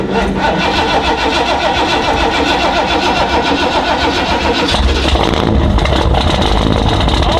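A Nissan Sentra fitted with a Holley Sniper EFI system cranks loudly and continuously, with the engine note shifting partway through as it catches and keeps running, close and dominant throughout.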